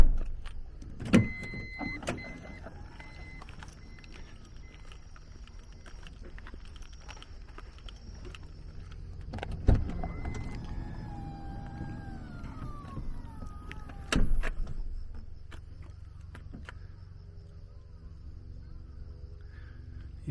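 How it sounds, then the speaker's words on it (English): A power back door on a 2009 Toyota Alphard 350S Prime Selection runs with a steady electric motor whine. Clunks come near the start and middle, then a firm latch thud before the motor settles. Close and clear, with no talking. "Power back door there."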